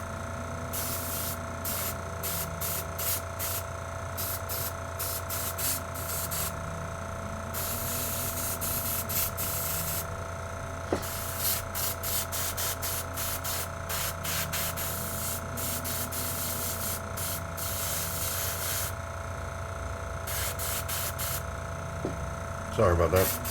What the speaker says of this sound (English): Get a quick spray over.